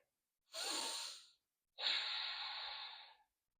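Two full breaths during a yoga stretch for knee joint health: a short, close, airy inhale followed after a pause by a longer, breathy exhale, clearly audible in a quiet room.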